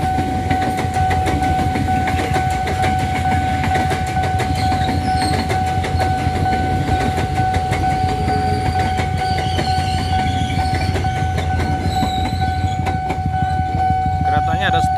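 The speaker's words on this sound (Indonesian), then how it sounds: "Nah, itu dia keretanya sudah kelihatan." KRL electric commuter train passing a railway level crossing in Citayam, loud continuous rumble and rhythmic wheel clatter with a steady crossing warning tone ringing throughout, close and sustained.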